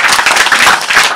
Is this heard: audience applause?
yes